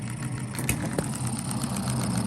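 A small hit-and-miss model engine runs steadily with a continuous mechanical clatter and low hum, with occasional sharper firing knocks standing out, close and moderately loud with no talk.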